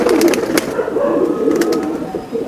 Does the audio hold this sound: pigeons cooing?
yes